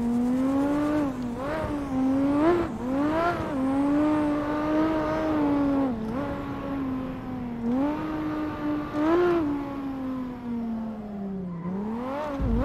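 Toyota Supra engine in the video game CarX Drift Racing, a droning exhaust tone that rises and falls repeatedly as gears change and the revs drop, steady and close throughout.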